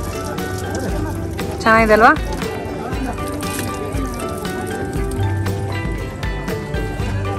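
An eco-friendly water tap at the Hornbill Festival runs with a light, continuous trickle and drip, partly buried under nearby conversation and crowd bustle, with a brief louder splash midway.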